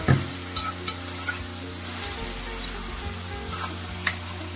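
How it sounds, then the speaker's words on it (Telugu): Onions and drumstick pieces fry together in a pan, a soft steady sizzle with a few sharp stirring knocks and scrapes up close, no voices over it. "ఈ ఉల్లిపాయ పూర్తిగా మగ్గిపోయేటప్పటికి ఈ ములక్కాడలు కూడా మగ్గిపోతాయి."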